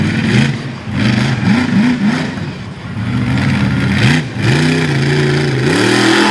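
A monster truck's engine roaring and revving hard during a sideways launch at an arena event in Fredericksburg, Virginia, with loud, continuous, rising and falling engine pitch and no talk.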